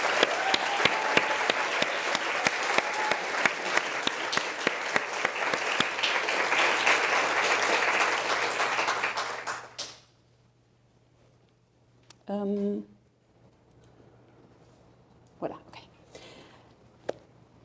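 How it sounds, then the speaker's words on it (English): Big round of audience applause for the organizers at a sewing conference at a university, loud sustained clapping for about ten seconds that stops abruptly, followed by brief speech and quiet room noise. "I think we all should do a big applause to Robin,"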